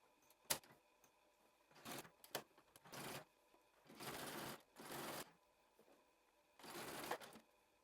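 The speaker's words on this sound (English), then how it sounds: "Now, while I'm top stitching it, I'm going to be holding it taut, pulling it, stretching the elastic" A sewing machine top-stitches over stretched elastic on a skort in short, faint bursts of rapid whirring stitching, separated by quiet pauses.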